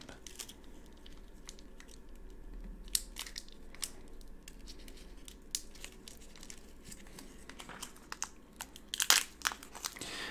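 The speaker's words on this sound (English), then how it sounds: "trying to not make too much noise when you deal with these annoying packs" An Upper Deck Series 2 hockey trading card pack wrapper crinkles and tears as it is opened quietly, with soft scattered crunches and a louder rustle near the end, close and intimate with no talk.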